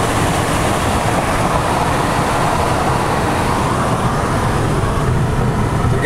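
A car drives along a road beside Lake Okanagan toward West Kelowna, with a steady, dense rumble of tyre and engine noise running unbroken throughout and no talk.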